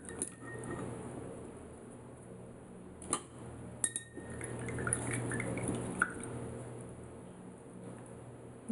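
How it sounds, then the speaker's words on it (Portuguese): Paintbrushes are lifted one by one out of a water jar during a craft session painting an MDF door sign, giving faint drips and small glassy clinks scattered over quiet background noise. "Tirar todos os pincéis da água para não estragar."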